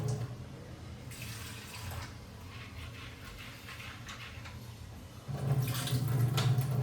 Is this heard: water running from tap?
yes